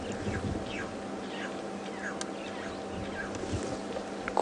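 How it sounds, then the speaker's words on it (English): A red-billed oxpecker calls on an African bush safari drive with a series of short, hissing, rasping chirps repeating irregularly over steady vehicle engine hum and faint background sound. "that significant bird call that you can hear while I'm talking is the sound of the red-billed oxpecker"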